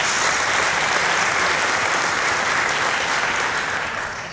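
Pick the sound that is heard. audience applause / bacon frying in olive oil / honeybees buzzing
audience applause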